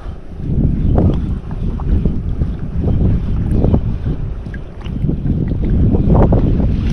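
Strong gusty wind buffets a fishing boat on open water during ultralight fishing, loud rumbling surges rising and falling close to the microphone.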